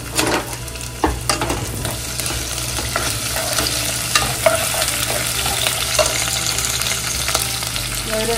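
Coconut shrimp sizzle steadily in a hot pan while being stirred, with a few sharper scrapes and clatters over the continuous frying hiss and no voices.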